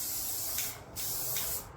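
Rust-Oleum glitter spray paint hisses from a can onto cruiser bike wheels in two short, close bursts separated by a brief pause, with no one talking.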